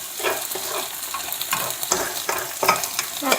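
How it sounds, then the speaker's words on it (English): Three beaten eggs and chopped spring onions scramble in a hot wok. A loud close sizzle is punctuated by repeated scraping stirs of the spatula and runs uninterrupted. "So we're going to go in with 3 beaten eggs for 2 people. And in with our spring onions."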